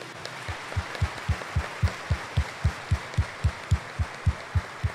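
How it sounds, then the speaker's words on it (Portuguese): A congregation at Sunday Mass claps in rhythm, with about eighteen evenly spaced, thumping claps that grow slightly stronger over a faint room background. "E dê uma salva de palmas para Jesus."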